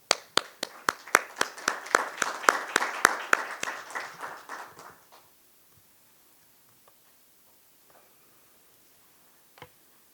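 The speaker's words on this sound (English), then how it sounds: "May we please give him a round of applause." Conference audience applause led by a few distinct, evenly spaced hand claps that swell into brief clapping, then fade out after about five seconds into near silence with a couple of stray taps.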